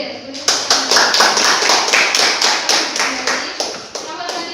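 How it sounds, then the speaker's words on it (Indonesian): Rhythmic clapping from a classroom group, loud, close hand claps in a steady beat of roughly four per second, with voices faintly underneath. "Oke, beri tepuk tangan untuk kelompok"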